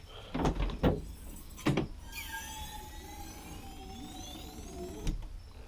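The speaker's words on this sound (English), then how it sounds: "Power antenna." A power antenna motor on a Datsun 280Z whirs as the mast extends, a steady rising mechanical whine lasting several seconds, preceded by a few sharp knocks and ending with a clunk.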